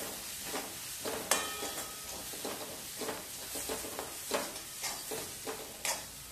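Spices with Maggi Magic masala sautéed briefly in a pan for a soybean chunk curry: a soft, steady sizzle with repeated scraping stirs and a sharper clatter near the start, no talking.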